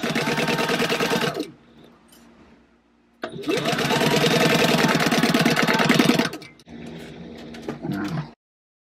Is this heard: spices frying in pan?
no